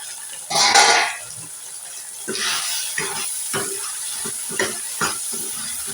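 Tomatoes fry in a covered pan for a simple tomato curry, giving a soft hissing sizzle broken by a few brief stirring scrapes and clinks, close and moderate in level.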